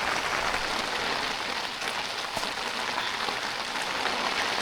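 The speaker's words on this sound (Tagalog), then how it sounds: "Secure naman tayo dito sa ulan." Steady rain pours down on a tent at a moto camping site, a dense continuous hiss of drops close overhead with no talking throughout.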